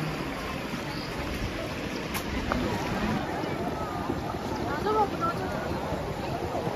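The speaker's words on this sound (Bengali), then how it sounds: "দেখুন এই যে জলপ্রপাত, এটাই কিন্তু সেভেন সিস্টার ওয়াটারফলসের যে উৎস সেটাই বলা হয়।" A waterfall at Cherrapunji in Meghalaya, the source of Seven Sisters Falls, gives a steady broadband roar from some distance, mixed with wind buffeting the microphone throughout.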